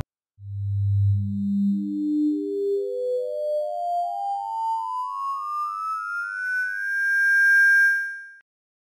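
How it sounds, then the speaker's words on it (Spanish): Pure sine-like tones of the harmonic series play one after another, starting from a deep low fundamental and stepping steadily upward in pitch over about eight seconds, each tone quieter and closer together, with no voices. "Lo que acabas de escuchar es parte de la serie armónica"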